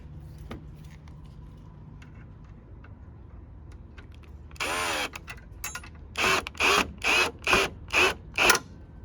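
A power driver sinks a screw into a metal sunblind bracket for a deck shading system: a sustained whirring burst, then a run of six short rhythmic ratcheting pulses, close and loud against a quiet background.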